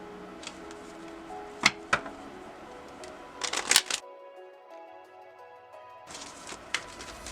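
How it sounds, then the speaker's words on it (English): Tarot cards riffle and slap together in bursts of quick, crisp shuffling with sharp taps, fairly close, pausing for a stretch of near silence with a faint steady tone before the shuffling resumes. "watch me shuffle."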